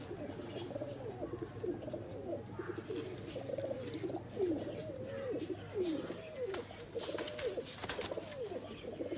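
Highflyer breeder pigeons coo continuously in soft, rolling calls over a low steady hum, with occasional rustling and flutters mixed in.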